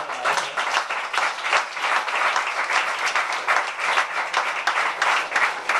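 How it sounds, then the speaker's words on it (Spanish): Sustained, dense audience applause for a Spanish Olympic-distance triathlon champion at a presentation event, many hands clapping together, loud and continuous throughout with no talk over it. "Un aplauso"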